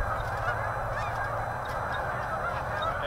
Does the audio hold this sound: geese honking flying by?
yes